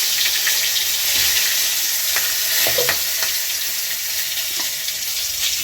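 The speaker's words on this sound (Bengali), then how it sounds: "তো আমি নিরামিষ খিচুড়ির মশলাটা এবার কষে নেব।" Whole spices such as cinnamon, cumin, dried chilli and bay leaf frying in hot oil for vegetarian khichuri, a steady loud sizzle throughout with a few faint clinks of stirring.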